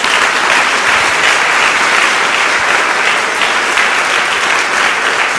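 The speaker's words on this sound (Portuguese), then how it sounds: "Dê uma salva de palmas a Jesus." A worship congregation bursts into loud, sustained applause for Jesus, a thick, even roar of many clapping hands that holds steadily throughout.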